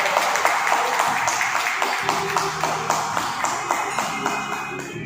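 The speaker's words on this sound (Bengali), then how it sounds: "এখন জোরে হাততালি হয়ে যায়।" Audience applause at a local talent show dance event, a steady wash of clapping with regular sharper beats running throughout, fairly loud and with no voices on top.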